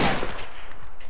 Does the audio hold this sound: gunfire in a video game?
yes